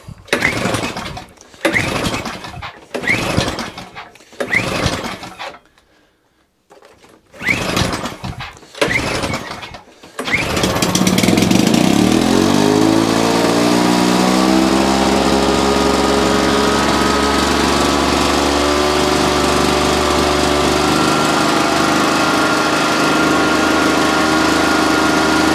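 Victa lawn edger small engine, first a series of sharp pull-start attempts with short bursts and gaps, then it catches and runs loud and steady near at hand, settling into a constant high idle drone.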